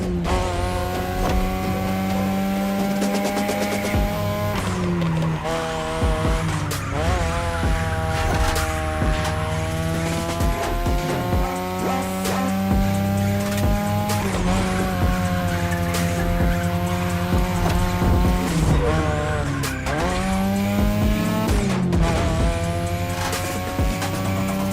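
Race car engines drone and shift pitch in The Crew Motorfest, with repeated rising revs and sustained tire squeal through drifting turns, loud and continuous with no speech.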